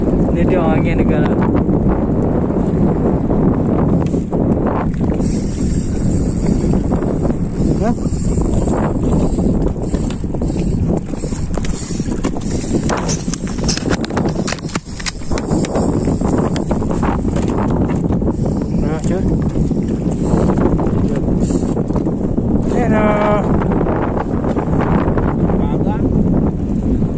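Strong wind while fishing at sea off Blang Ulam in Aceh Besar, a loud continuous roar and buffeting against the microphone throughout, with people talking underneath.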